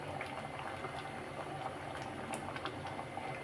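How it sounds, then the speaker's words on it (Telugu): Drumstick dal bubbles in a pot on the stove, giving a soft, steady boiling burble with small pops, faint and heard alone. "పప్పు బాయిల్ అవుతుంది కదా"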